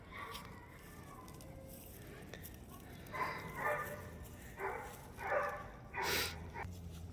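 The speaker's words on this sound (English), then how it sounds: "So we're feeding the dogs right now. That's why they're barking." Several Cane Corso dogs bark and yip at feeding time in short bursts at medium distance, with a few whimpers between louder clusters of barking.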